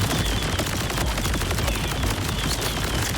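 Shotgun fired in a video game, a dense continuous barrage of loud overlapping gunfire bursts filling the whole clip, close and harsh, no talking.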